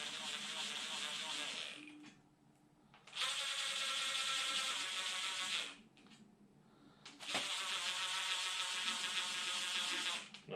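A ratchet turns cylinder head bolts on an engine in two long bursts of rapid, close clicking separated by pauses, fairly loud and sharp against a quiet workshop.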